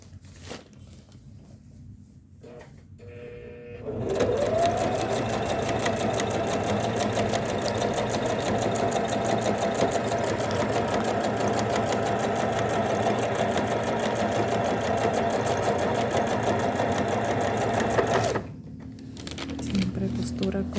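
Sewing machine stitching elastic into trousers, a loud steady whirring run of about fourteen seconds, with handling noises and short starts before and after.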